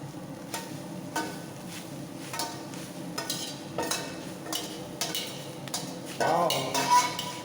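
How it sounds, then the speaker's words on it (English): Chicken sukka ingredients including grated coconut being roasted and stirred in a pan, with soft scraping and clinking strokes over a low sizzle, a few louder knocks near the end. "You need to roast this to extract the flavor."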